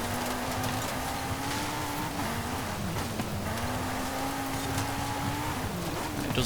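Steady engine drone from a 2018 Audi TT RS, a compact five-cylinder, driven in Forza Horizon 5 off-road, holding a fairly constant pitch with slight rises and dips over continuous background noise.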